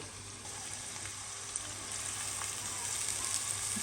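Onions for birista sizzle in hot oil while being stirred, a soft, steady frying hiss with occasional faint pops and scrapes that grows slightly louder partway through.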